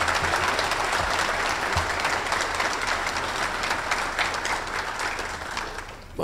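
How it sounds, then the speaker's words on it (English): Sustained applause from an audience at a law enforcement awards event honouring first responders, a dense wash of clapping that holds steady for several seconds, then thins and stops abruptly. "Let's give everybody a big round of applause."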